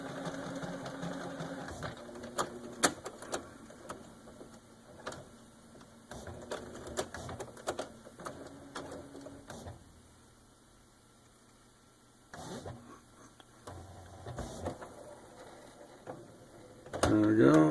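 An inkjet printer whirs and clicks in busy mechanical bursts while a refilled ink cartridge is being repaired, pausing briefly before the motor starts up again at close range.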